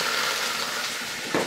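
Garlic stir-frying in a little cooking oil in a heated frying pan gives a steady, close sizzle, ending in a brief louder scrape or stir.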